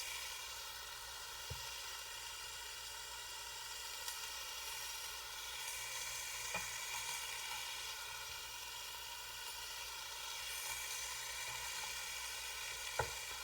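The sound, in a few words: onions frying in a pan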